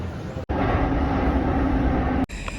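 Steady loud rumble and hiss of a train moving close by at a station, continuous with brief cuts at either end, no voices.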